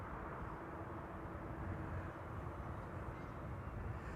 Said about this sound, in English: This is KLM flight 1002, arriving from London Heathrow. It's an A321neo.